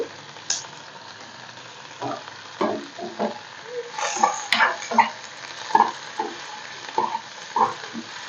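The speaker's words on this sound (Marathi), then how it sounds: "आता आपण टोमॅटो घालू याच्यामध्ये टोमॅटो जे आपण तीन कापून घेतले होते ते घालायचे हे पण परतून घेऊया" Chopped tomatoes sautéed with onion in a pan for butter chicken gravy, giving a steady close sizzle broken by irregular scraping stirs, with no talking.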